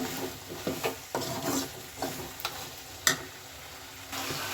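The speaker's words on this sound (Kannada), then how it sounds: "ಚೆನ್ನಾಗಿ ಫ್ರೈ ಆಗಬೇಕು." Garlic and small onions fry in a pan for a sour gojju, a soft sizzle broken by irregular clicks and scrapes of stirring, several sharp taps standing out, no talk.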